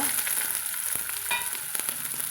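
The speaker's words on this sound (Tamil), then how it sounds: "இப்போ சின்ன வெங்காயம் வெட்டி வச்சுக்கிறேங்க அதையும் சேர்த்துக்கலாங்க" Chopped small onions crackle and sizzle in hot tempering oil with mustard seeds, a dense steady frying hiss with a few sharp pops and stirring scrapes, close and without talk.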